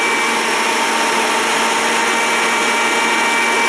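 A feed grinder running continuously as it grinds crumbles for quail, a loud, steady motor whine with a constant tonal hum and no pauses.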